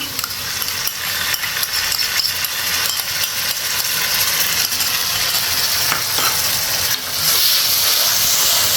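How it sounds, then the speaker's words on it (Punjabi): Grated tomatoes hit a hot pan of browned onions and dried fenugreek, giving a loud, steady sizzle and hiss that keeps going, with a brief surge of frying noise near the end. "ਤਿੰਨ ਟਮਾਟਰ ਜਿਹੜੇ ਗ੍ਰੈਂਡ ਕੀਤੇ ਆ ਉਹ ਆਪਾਂ ਇਹਦੇ ਵਿੱਚ ਪਾ ਦਿੰਨੇ ਆ"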